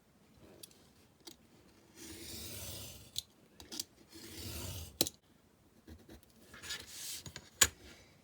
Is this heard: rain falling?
no